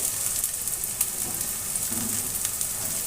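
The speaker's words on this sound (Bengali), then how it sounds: "একসাথে একটু ভাজা ভাজা হয়ে যাক।" Potatoes fry in hot oil with cardamom and cinnamon, a steady bright sizzle that stays even throughout, with only faint stirring touches and no voices.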